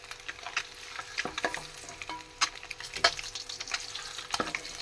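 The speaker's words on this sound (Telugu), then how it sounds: "గుడ్లు అయితే వేగుతున్నాయి, ఇంకా తీసేసుకుందాం." Eggs fry in a pan with a soft crackling sizzle, broken by scattered sharper pops and scraping stirs, heard close and fairly quiet.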